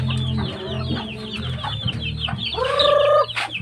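Hungry backyard chickens on a rural farm cluck steadily and busily at close range, with one bird rising into a louder, drawn-out call near the end, over a constant low rumble.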